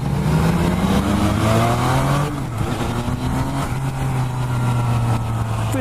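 A 2017 Yamaha FZ-09 (MT-09) motorcycle engine rising and falling in pitch while riding, with a brief dip around a gear change before it climbs again, loud and continuous under steady wind noise.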